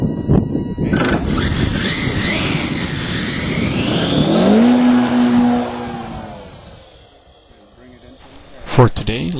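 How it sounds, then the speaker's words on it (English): Electric motor of a 70-inch slick RC model airplane revving up for takeoff, a loud whining drone that rises in pitch, holds, then fades into the distance before a closer burst. "Got my 70-inch slick here, powered with the new motor 1512."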